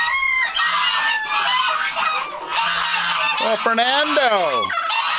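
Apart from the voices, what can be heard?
chickens and ducks in a loud farm bird enclosure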